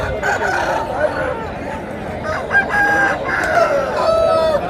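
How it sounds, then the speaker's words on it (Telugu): Several roosters crow in long drawn calls over steady clucking at a country chicken market, close and loud, with faint voices in the background. "మంచి పుంజులు వచ్చాయి"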